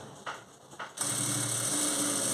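A sewing machine runs thread piping stitches on a blouse: a couple of short whirring bursts, then a steady, continuous close-up hum that lasts to the end.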